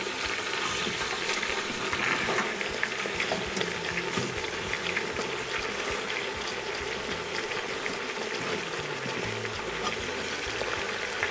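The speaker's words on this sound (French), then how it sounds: "Ensuite, je viens rajouter mes poivrons." Bell peppers frying in a pan, with a steady close crackle and sizzle running throughout, and small bubbling and stirring sounds mixed in.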